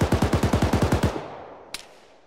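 Arma 3 gunfire in a rapid burst of about eleven evenly spaced shots over one second, fairly close and loud, followed by a decaying echo and one faint distant report.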